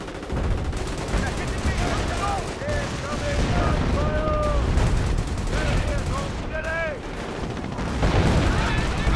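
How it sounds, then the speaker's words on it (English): A Wehrmacht sniper firing in a Company of Heroes battle: several distinct shots among a loud, continuous wash of battlefield gunfire and shell whistles, with a voice talking underneath. "Wehrmacht sniper fires some shots there"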